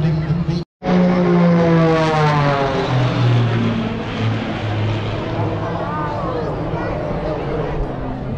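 Military aircraft fly past at a Kenya Defence Forces air show at a museum garden, a loud, sustained engine roar with a falling pitch as they pass close overhead. Voices can be heard underneath.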